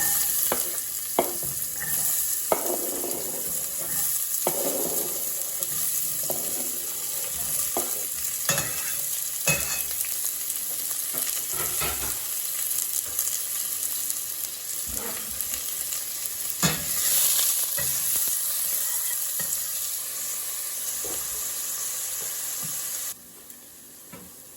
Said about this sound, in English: We're just going to start off by sauteing these veggies.